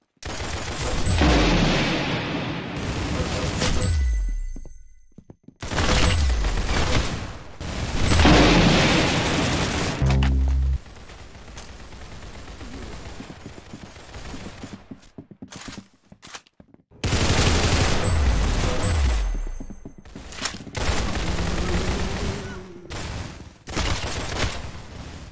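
Gunfire from the Roblox game Arsenal comes in loud, dense bursts of rapid shots and booms, broken by short gaps and quieter stretches.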